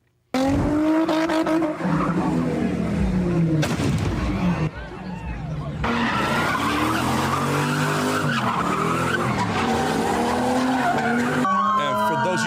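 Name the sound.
cars spinning doing donuts, tires skidding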